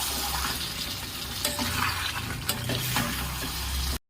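Chicken curry with green chillies being stirred in a pan: dense, steady sizzling with a few sharper scraping clicks, close up, ending abruptly.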